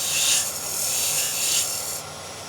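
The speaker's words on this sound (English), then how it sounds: "Again, I'm going to use a chamfer. Just see if we're just starting to bite on that edge." A lathe tool cuts a chamfer into the edge of a turned wooden box, producing a close, raspy scraping hiss that swells and fades in two strokes before dropping off.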